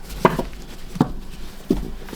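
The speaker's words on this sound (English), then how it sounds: "Now I'm going to give it a shuffle" A brand new, stiff tarot deck being shuffled, heard as three separate crisp riffling bursts spaced under a second apart, close and fairly loud with quiet in between.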